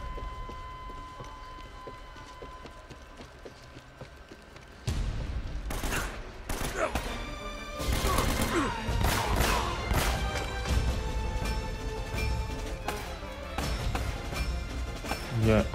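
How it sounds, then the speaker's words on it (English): Bursts of rapid gunfire crackle and bang in clusters over a busy soundscape in Uncharted: Drake's Fortune Remastered on PlayStation 4, with louder volleys in the second half. "Yeah, other gunshots."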